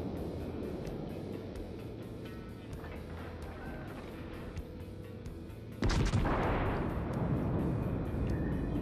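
Naval guns fire in the World of Warships video game, one sudden loud blast breaking through a steady churning background of ship and sea noise, then a lingering rumble.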